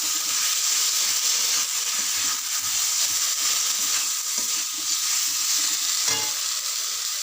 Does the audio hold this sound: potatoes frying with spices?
yes